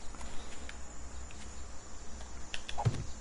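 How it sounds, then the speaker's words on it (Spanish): Cicadas drone in a daytime scene of the video game 7 Days to Die, a steady high-pitched buzz running throughout with a few faint clicks and a soft thud near the end. "como suenan las chicharras, ¿eh?"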